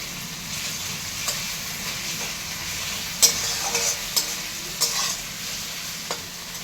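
Garlic paste sizzling in a pan with onion and tomato as it is stirred, a steady close frying hiss broken by a few scraping clinks from the spoon.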